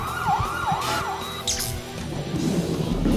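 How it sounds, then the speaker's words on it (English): Stadium siren at a high school football game in Weslaco, sounded for a Wildcats first down, wailing in rising and falling sweeps over crowd noise and a busy, echoing stadium background. "that's the sound of a Wildcat 1st and 10"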